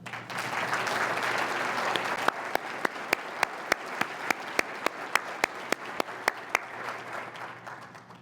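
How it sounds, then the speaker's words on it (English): Applause at a foundation grants breakfast, a room of people clapping steadily, with a few louder, evenly spaced individual claps standing out near the front before the clapping fades. "Let's give them a round of applause."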